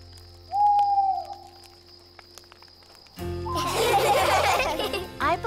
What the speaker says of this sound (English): I believe Mrs. Owl said, hoo hoo hoo